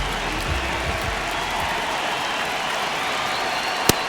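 A dense stadium crowd roars steadily in an MLB The Show 26 baseball game between the Seattle Mariners and Los Angeles Angels, a constant wash of cheering with one sharp crack near the end.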